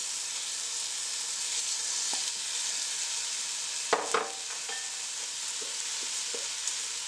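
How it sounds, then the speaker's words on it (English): Washed basmati rice being stirred into a pot of hot oil or spices sizzles in a steady, close hiss, with a few soft scrapes and knocks of a utensil against the pot midway and no talk. "To this I am adding 3 cups of washed basmati rice"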